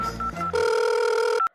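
A telephone rings while a call is being placed: a short electronic tone, then a sustained, loud, close ring lasting about a second before stopping abruptly.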